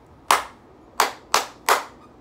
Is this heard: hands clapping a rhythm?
yes